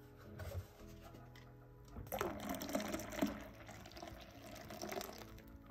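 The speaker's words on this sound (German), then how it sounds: "Und jetzt gebe ich noch meine Milch rein." Milk poured into a cup of freshly made coffee in a home kitchen, a steady liquid trickle and splash lasting several seconds, fairly close and with no talking.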